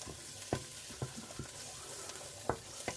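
Garlic sizzling in a pan of frying onions for savoury beef mince, with a steady crackle of hot fat and several sharp scrapes and clatters as the spoon stirs it in, close up with no talking.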